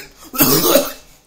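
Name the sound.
person coughing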